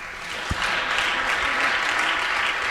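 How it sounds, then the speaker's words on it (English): Audience applause at a media prize award gala, a dense, even wash of clapping that stays loud and steady throughout, with no speech over it. "Please give the authors big applause."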